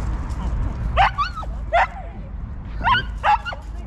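A dog behind a fence in a residential courtyard barks and yips in four short sharp bursts, fairly close, over low background noise and faint talk.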